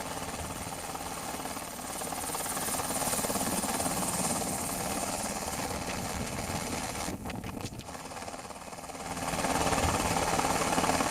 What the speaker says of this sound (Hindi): तस्वीरों में आप देख भी सकते हैं कि हेलीकॉप्टर किस कदर लड़खड़ा रहा है।